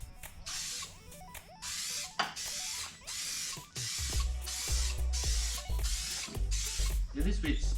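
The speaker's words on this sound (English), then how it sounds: "when you're doing this sort of spraying, what you're trying to do is just sort of dust on like a nice light cover" An aerosol can lays light dusting coats of spray paint onto the bars of an R31 Skyline, in a run of short, close, evenly spaced hissing bursts with brief pauses and faint background noise.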